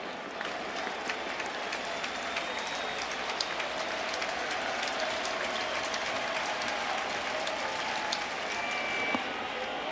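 A baseball crowd at an Angels vs Yankees game cheers and claps steadily, a dense, sustained wash of applause and voices filling the ballpark throughout.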